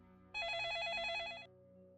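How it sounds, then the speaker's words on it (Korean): Telephone ringing as a sound effect: a single short electronic trilling ring lasting about a second, fairly close and clear over a quiet background. "그때 투베손에게 전화가 왔다."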